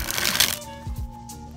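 A deck of Superior Rainbow playing cards being shuffled and sprung, a brief close burst of riffling card flutter followed by a couple of soft taps.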